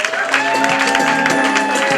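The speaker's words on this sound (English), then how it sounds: "Another round of applause for our overall winner." Audience applause for the overall winner at a televised event, steady dense clapping from a crowd continuing under an announcer's amplified voice.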